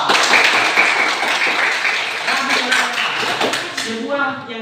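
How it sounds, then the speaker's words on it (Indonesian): Children in an Indonesian classroom on Nias clap together in a dense, sustained round of applause, with voices rising underneath and cheering as it tapers off near the end. "tepuk tangan untuk kita semua"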